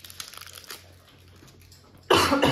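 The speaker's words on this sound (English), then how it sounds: "I apologize about the coughing." A loud, harsh burst of coughing erupts near the end after a stretch of quiet rustling and faint background noise.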